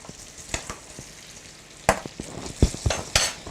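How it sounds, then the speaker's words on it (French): Rice being stirred in a pan: a soft background sizzle punctuated by several sharp scraping and clinking strokes of a utensil against the pan, close and irregular. "Remue le riz un petit peu."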